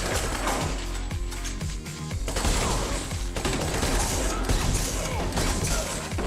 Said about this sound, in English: I think I'd rather get shot with a normal gun, not like this fire launcher